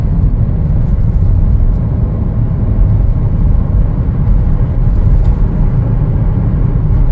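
Interior engine and road rumble from a 2025 Chevrolet Trailblazer LT pulling away, a steady low drone that holds fairly loud and even throughout with no talk.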